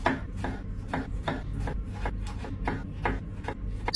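Knife chopping tomatoes on a wooden cutting board while cooking dilis at okra, heard as steady, close, evenly spaced thuds repeating about twice a second, with no talking.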